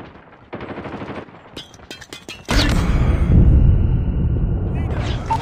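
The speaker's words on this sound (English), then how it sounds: "Sentry gun deployed." Gunfire in Call of Duty Mobile during a Hardpoint match comes as rapid automatic bursts, then a loud sustained roar of heavy firing and rumble, with short game voice announcements mixed in.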